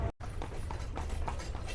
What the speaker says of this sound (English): So we are now on a horse carriage on the streets of Edfu.